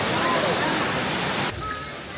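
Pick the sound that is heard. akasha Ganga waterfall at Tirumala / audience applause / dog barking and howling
akasha Ganga waterfall at Tirumala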